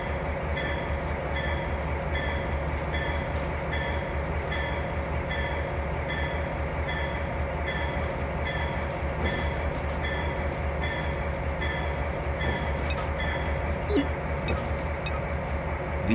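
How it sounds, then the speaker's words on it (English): A train in the Trainz Simulator video game rolls off at low throttle, a steady engine hum with repeating rhythmic clicks of wheels over rail joints, heard continuously and fairly evenly throughout. "Use the right trigger to increase the throttle to position 1 to start the train rolling."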